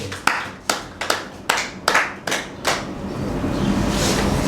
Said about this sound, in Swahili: Mpe Bwana makofi.